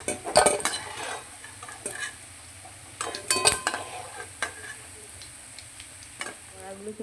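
Fried fish roe fritters are lifted from a pan with a soft background sizzle. Several sharp scrapes and clinks of a utensil against the pan come in irregular bursts, and no one speaks.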